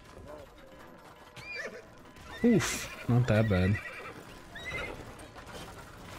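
A horse set on fire by lava in Minecraft Legends neighs and whinnies in a couple of loud bursts, mixed with hoof clip-clops, while a player talks briefly over it.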